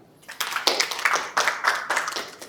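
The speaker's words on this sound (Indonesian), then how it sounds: "Tepat semua. Tepuk tangan." A class at a tourism polytechnic breaks into applause after a correct answer, a brief burst of clustered hand claps that swells and carries on for about two seconds.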